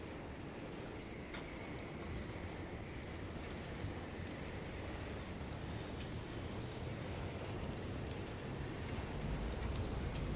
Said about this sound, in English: So windy and loud.